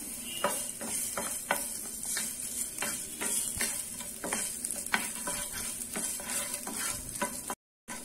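Chopped ginger pieces sautéing in hot oil, a steady sizzle broken by repeated sharp scrapes of a spatula stirring the pan, close and fairly loud with no talking.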